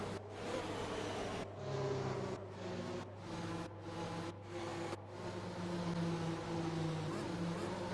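F1 2021 video game race cars at Monaco cruise behind the safety car, a steady droning engine hum with shifting pitched whines and brief dips, continuous and fairly quiet.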